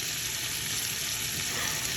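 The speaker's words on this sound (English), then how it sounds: "I'm gonna let them all sit here and sizzle." Bacon, andouille smoked sausage and smoked pork hocks sizzling in a pot for jambalaya, a steady, even crackling fry, quiet and close, with no voices.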